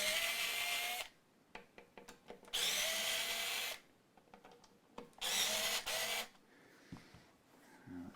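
A power drill unscrews the neck bolts of a guitar in three steady whirring bursts. Clicks and handling noise fill the short gaps between them.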